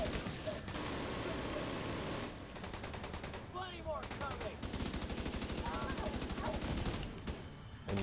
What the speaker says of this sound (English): Yes, shoot that armor off